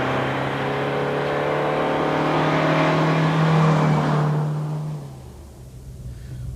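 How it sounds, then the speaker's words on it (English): A Vauxhall Cavalier Mk3 climbs a hill-climb course in the rain, its engine droning loud and steady as it holds revs, then fading quickly away into quiet as the car moves off. "let's kick off with a run on the hill climb to warm this engine up a bit"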